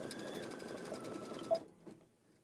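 A sewing machine steadily stitches a quilted tote, its even motor whir and rapid needle chatter running continuously before stopping abruptly, followed by a couple of soft clicks.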